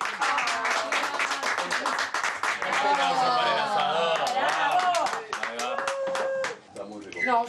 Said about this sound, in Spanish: Otro aplauso para el asador.